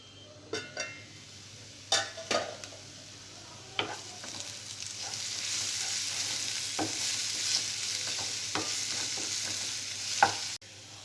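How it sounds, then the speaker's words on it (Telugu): Onion paste fries in a pan with a steady sizzle, broken by occasional sharp clinks and scrapes from stirring. "ఆనియన్ పేస్ట్ బాగా ఫ్రై అయిన తర్వాత"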